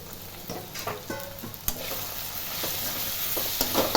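Dried anchovies, cleaned and washed, sauté in hot oil with a steady sizzle, while a spoon scrapes and stirs the pan in several short clattering strokes. No one speaks.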